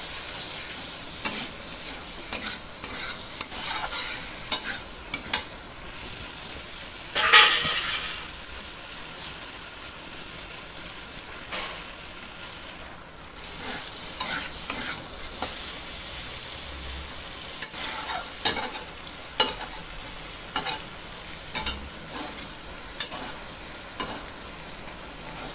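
Pasta ingredients roast in a pan with a constant soft sizzle, broken by bursts of spatula stirring and scraping, close and moderately loud with no speech.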